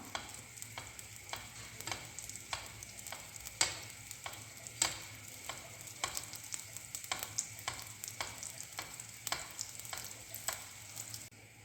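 Oil spooned over semolina sfenj dough frying in a pan, a faint continuous sizzle broken by a regular series of soft ladle taps and splashes about every second, close and quiet with no voices.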